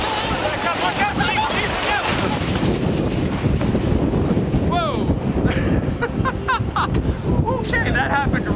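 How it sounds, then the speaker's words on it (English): Strong gusting wind, forecast at up to 80 mph, roars constantly with microphone buffeting and a churning, wave-like rush; people speak excitedly underneath it throughout. "Told that it was going to be an 80-mile-an-hour wind gusting."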